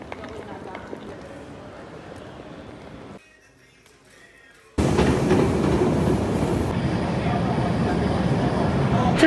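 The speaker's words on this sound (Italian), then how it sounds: "adesso andiamo in stazione per prendere il treno per Sorrento" A train running from Naples to Sorrento: a rumbling ride with rhythmic rail clatter. It drops to near quiet for a moment, then returns louder and closer, with voices talking over it.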